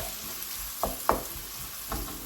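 Onions sizzle steadily in a hot pan for chicken curry, with a few sharp scrapes of a spoon stirring, close by and no talking.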